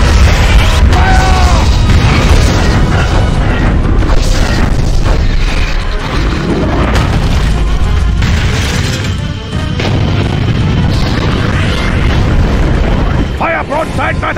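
Heavy booming blasts and crashing impacts from a crystal cannon firing in the video game Godzilla Unleashed, loud and continuous with layered explosions, rumbling low end and metallic game effects throughout.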